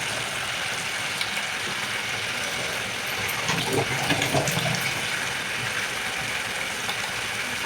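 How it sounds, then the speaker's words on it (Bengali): Water poured into a simmering chital fish curry gravy (tel jhal) in a pan, a steady rushing splash close by that swells slightly midway, with no talking. "দিয়ে দিচ্ছি পরিমাণ মতন জল"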